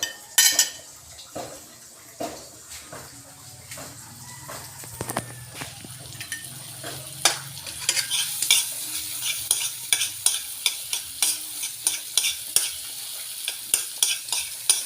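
Onions sizzle in hot oil in a pan for sardines, a steady hiss of frying under repeated metal scrapes and taps of a utensil stirring against the pan, close and fairly loud.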